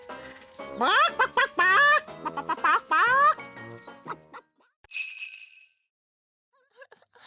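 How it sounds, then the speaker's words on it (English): A cartoon chicken in a children's animated fairy kingdom clucks in a quick series of rising, voiced squawks, loud and close, followed by a brief tinkling chime and then near silence. "Nanny Plum, could you ask Mrs. Chicken to deliver an egg for breakfast tomorrow?"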